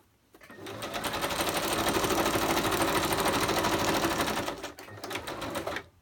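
A sewing machine runs a zigzag stitch through a wax paper bag, giving a close, rapid, even mechanical chatter for about four seconds before slowing and briefly restarting.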